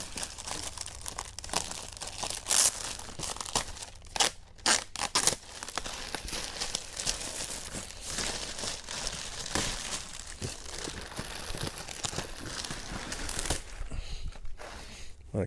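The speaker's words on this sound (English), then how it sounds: "It'll come in just like this, plastic wrap. Just go ahead and remove it with some scissors." Plastic wrap being cut with scissors and pulled off a boxed shower chair, giving a steady run of close crinkling and tearing rustles with sharp snips, continuing for the whole stretch and thinning out near the end.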